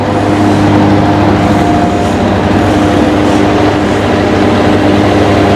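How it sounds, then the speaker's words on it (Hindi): A rice thresher running off a small 25-30 hp tractor gives a steady, loud mechanical drone with a constant low hum and humming harmonics, continuous throughout. "ये जी मशीन अभी चल गई है और ट्रैक्टर छोटा ट्रैक्टर चला रहा है इसको"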